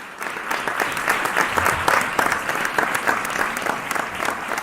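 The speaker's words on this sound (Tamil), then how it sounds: "மாணவிகள் கைத்தட்டி சொல்லலாம், விசில் அடிச்சு சொல்லலாம் உங்களுடைய ஆதரவை" Female students applauding at a Jallikattu awards show, a dense, sustained round of clapping from a crowd that carries evenly throughout.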